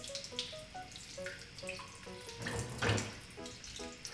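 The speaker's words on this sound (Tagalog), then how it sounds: "Pabayaan lang muna natin na tumulo yung tubig." Water running and dripping off freshly washed raw chicken set aside in a kitchen sink for fried chicken, a steady close trickle with faint tonal clinks throughout and a brief louder splash near the end.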